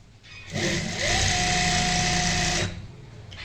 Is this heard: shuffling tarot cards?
no